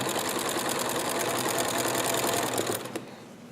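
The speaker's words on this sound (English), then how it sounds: "I always make sure that my needle is in the needle down position. And just start sewing." A sewing machine stitches binding onto a quilt in a fast, even mechanical rattle that runs steadily and close, then slows and stops near the end, leaving a faint hum.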